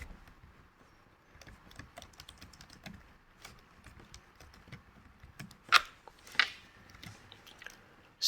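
Soft, steady clicking of keys as text is typed on a computer keyboard, an irregular patter close by with a couple of sharper, louder taps near the end, no voices.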